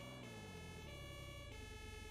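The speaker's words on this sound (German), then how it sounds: "Nee, es ist Feuerwehr. Die Drehleiter." A fire engine siren from a Roblox driving game, wailing steadily at a moderate distance for the whole stretch, with a continuous engine rumble beneath it and no talk.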